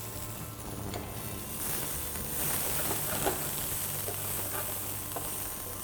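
Garlic and chopped onions frying in olive oil in a pan on a stove give a steady, close sizzle and hiss that builds slightly partway through. No one speaks.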